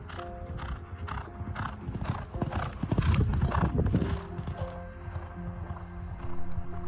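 Race horse hooves clip-clop in a fast, uneven rhythm during a morning training gallop, moderately close, with wind and rustling around them and a swell of louder hoofbeats midway.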